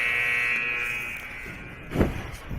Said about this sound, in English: that's going to bring us to a buzzer